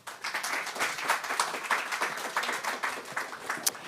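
Audience applause welcoming speakers at a talk on earthquake prediction. Moderate, steady clapping from a seated crowd fills the short span evenly, somewhat distant and without speech over it.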